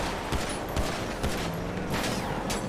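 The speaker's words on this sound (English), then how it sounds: "Shots fired!" Rapid bursts of gunfire in the video game GTA roleplay, several sharp shots cracking in quick succession over a steady background of game noise, loud and close.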